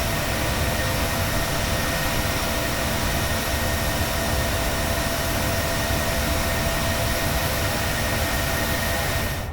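Airliner jet engines roaring steadily during a quick initial climb to 5,000 feet in Microsoft Flight Simulator, a loud, constant broadband rush with no talking.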